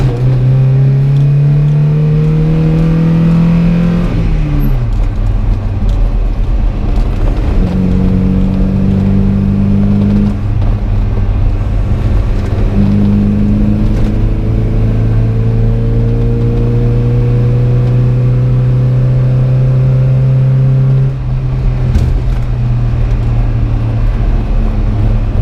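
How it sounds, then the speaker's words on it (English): Engine of a 1986 Toyota pickup with a worn transmission downshifting on the road around 32 mph, revs rising and falling in several steady pulls over continuous loud cabin drone, no talking. "at 32 miles an hour. We're going to downshift."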